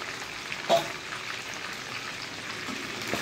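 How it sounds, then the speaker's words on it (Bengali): Chicken pieces frying for biryani give a steady, fairly quiet hiss of sizzling oil, with one brief louder clatter early on and no talking. "মাংসটা আমার ভাজা ভাজা হয়ে গেছে"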